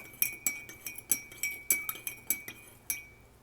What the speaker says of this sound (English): It takes a moment and a little bit of stirring for things to totally dissolve.